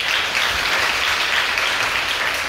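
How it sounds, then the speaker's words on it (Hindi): Continuous applause from an audience at a memorial discussion and award ceremony, a dense, even wash of many clapping hands held at steady loudness throughout. "अगर हासिल किया है तो तालियां बजा दो।"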